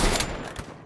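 Gunfire in Free Fire, a rapid close burst of shots forming a brief loud volley that fades out within a second, with no speech over it.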